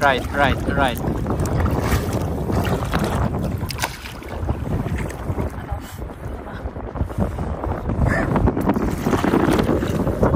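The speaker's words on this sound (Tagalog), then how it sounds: "Ang lakas ng hangin." Strong wind buffets the microphone with a constant roar at Two Jack Lake, Canada, mixed with water sounds from a small paddled boat and occasional voices.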